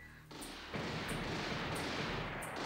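In the video game Alien Trilogy, an enemy fires on the player with a dense, unbroken burst of gunfire that rises suddenly and stays loud, with sharp high snaps at intervals, and nobody speaks.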